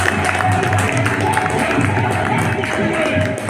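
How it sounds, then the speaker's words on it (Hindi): Loud, continuous applause from a training-session audience, a dense steady wash of clapping with some crowd noise, lasting the whole span without a break. "मैं चाहता हूँ कि उनके लिए जोरदार तालियां होनी चाहिए।"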